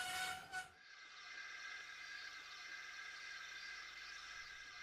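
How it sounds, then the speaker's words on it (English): A passenger train with a big silver-and-gold engine pulls into a station, its steady rolling rumble and hiss continuing evenly at moderate level after a brief louder burst at the start. "a big engine with silver and gold paint pulled a passenger train into the station"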